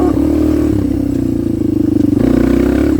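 A Kawasaki KLX 230R dirt bike engine revving hard through a wheelie, loud and close, a steady buzzing drone that climbs in pitch and surges again near the end, with no talk.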